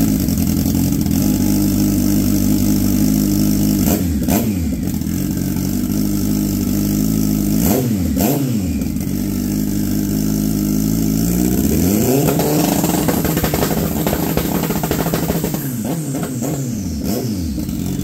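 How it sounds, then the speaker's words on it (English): Turbocharged car engine held on a low-RPM two-step launch limiter, a loud continuous crackling drone with sharp rev bursts and drops recurring every few seconds, close and without talk. "this should be a fairly spicy lower RPM two-step"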